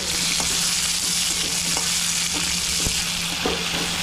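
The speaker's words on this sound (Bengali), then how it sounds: "টমেটোকে দিয়ে আবার বেশ কিছুক্ষণ নাড়াচাড়া দিতে হবে" Tomatoes and onions are stirred and fried in a pan, giving a close, steady sizzle punctuated by a few sharp spatula scrapes and taps, with no one speaking.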